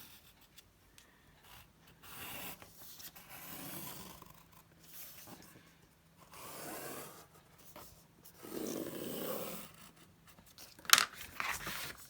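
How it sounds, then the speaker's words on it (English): A pencil traces around a paper template, making soft scratchy rubbing strokes in several bursts with quiet pauses between them. The strokes are close but faint, and a brief sharper click comes near the end. "I'm going to draw around it again."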